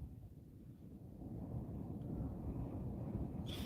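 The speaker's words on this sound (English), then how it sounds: "It is windy here, Mac." Wind blows steadily outdoors, a continuous low roar that swells slightly midway and stays loud throughout, with no talking.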